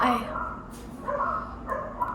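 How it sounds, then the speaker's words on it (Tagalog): A dog barks in several short bursts, fairly close, with background noise between the barks. "Aso"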